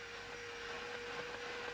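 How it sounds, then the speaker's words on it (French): A cartoon vacuum cleaner runs abnormally, wheezing like an asthmatic machine, giving a thin, steady whining hum at low volume with no talk. "Il y a quelque chose de pas normal dans cet aspirateur."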